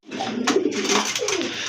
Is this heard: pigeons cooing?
yes